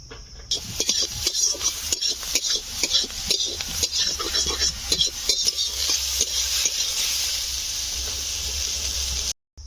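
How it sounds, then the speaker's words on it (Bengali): Potato and pointed gourd pieces frying in a pan for a prawn curry, giving a continuous loud sizzle with frequent scraping and clinking of the spatula against the metal. "এবার আলু পটল চিংড়ির জন্য আমি চিংড়ির আলু পটলটা ভেজে নেব"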